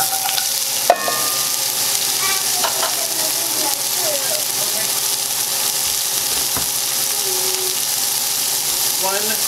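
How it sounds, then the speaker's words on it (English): Carrots and celery frying in a pan, a continuous hissing sizzle with occasional clinks and utensil scrapes, no talk. "Now we're gonna add our vegetables."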